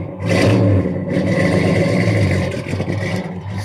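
A 440 Ram Charger engine rumbles loud and close with a deep, steady throb, no voices over it.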